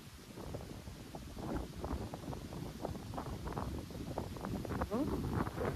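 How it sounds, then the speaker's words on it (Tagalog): Strong wind gusting outdoors through coconut palms, a steady loud broadband roar with rustling fronds that builds slightly stronger toward the end. "Grabe yung hangin, ang lakas."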